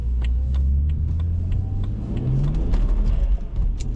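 A BMW 1 Series accelerates hard, heard from inside the car as a loud, steady engine rumble with rising pitch and road roar, with no talk.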